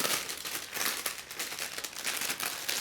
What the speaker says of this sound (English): See if I can remove this security tape